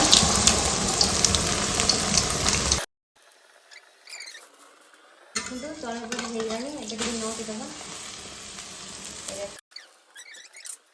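An egg and puffed rice pizza mixture fries in hot oil in a kadai, giving loud, dense crackling and sizzling that stops abruptly, then resumes in bursts with quiet gaps between.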